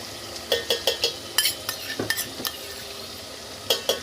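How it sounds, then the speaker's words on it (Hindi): Masala and yogurt for a mutton kofta curry being fried and stirred in a pan, with a sizzle underneath and a quick run of sharp spoon scrapes and clinks against the pot, close up and with no talking. "देखो ये भूनता है ना मसाला"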